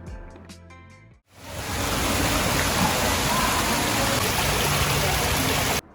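Splashing water features at Waikiki Beach give a loud, steady, broadband rush of falling water that starts abruptly after a brief burst of other sound and then runs evenly and close.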